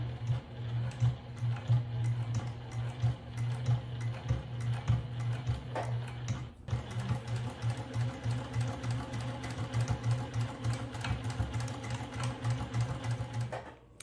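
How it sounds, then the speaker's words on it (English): A sewing machine stitches across the corners of a beginner travel bag, its motor running in a steady, fast needle rhythm close by, uninterrupted apart from a brief pause midway. "So let's go to the sewing machine. Start to sew."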